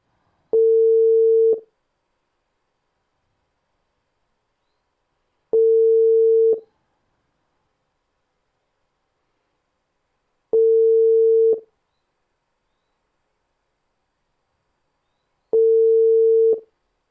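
Telephone ringback tone on a call that goes unanswered: four steady one-second tones spaced about five seconds apart, clear and alone with silence between rings.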